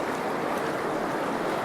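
Rolling River soundscape from the Satori Sounds app: a dense, steady rush of flowing river water, broadband and even, heard close and alone.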